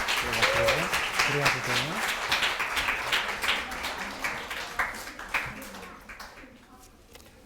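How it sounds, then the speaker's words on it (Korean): A church congregation applauding during a Sunday worship service, a dense run of clapping that is steady at first and slowly thins out toward the end, with a voice speaking over the clapping. "다시 한번 박수할 때 들어가면 됩니다."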